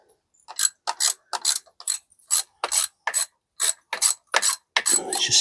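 An extractor tool is turned on a bolt of a Ford Fiesta ST150, giving a series of about a dozen close, crisp ratcheting clicks in a steady rhythm, loud and alone.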